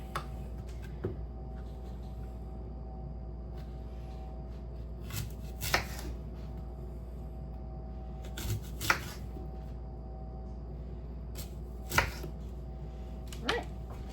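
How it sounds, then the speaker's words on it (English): A knife cutting into an apple on a board gives several sparse, crisp chopping clicks spread over a quiet stretch with low background hum. "where I'm going to cut a line here, here, here, and here, so that I'm not getting the middle part"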